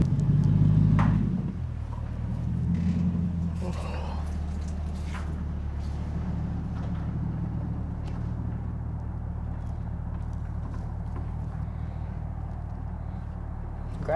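A Lexus LS400 engine rumbles steadily at close range, revving up briefly at the start before settling into a continuous low idle-like drone.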